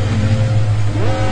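School bus in the mobile game Flying School Bus Robot pulls away with a short, loud engine drone that rises in pitch as it accelerates.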